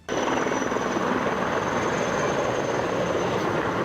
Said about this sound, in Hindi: एक साथ कई हेलीकॉप्टर आसमान से पानी की बौछार करते दिखाई दिए